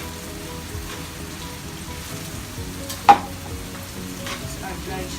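Dried shrimp stirred and sautéed with squid and other ingredients in a pan, a steady close sizzle with soft scraping stirs throughout and one sharp clink near the middle.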